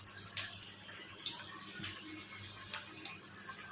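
Luchi bread fries in hot oil with a faint, continuous sizzling hiss, with small bubbly pops scattered through it.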